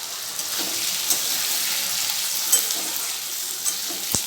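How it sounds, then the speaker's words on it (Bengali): Potato, onion, garlic and tomato sizzle steadily in a kadai, a continuous close hiss broken by soft stirring scrapes, with no talking. "কড়াইতে আলু পেঁয়াজ রসুন টমেটো সব ছেড়ে দিয়েছি ভাজা ভাজা করে নেবো"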